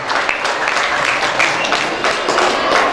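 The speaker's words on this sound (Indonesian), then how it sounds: "Olehnya boleh kita tepuk tangan terlebih dahulu kepada beliau." An audience claps at a school graduation ceremony, a dense, steady applause that carries on without a break for a few seconds.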